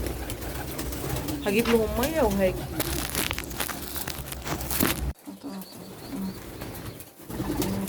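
Pigeons kept by a home bird keeper coo in a few rising, wavering calls early on, with rustling nearby and someone talking over them.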